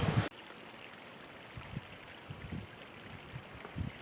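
Stream water flows steadily through Dark Canyon in the Utah wilderness on an overcast day, a soft continuous rush broken by a few faint low knocks and splashes, with no talking.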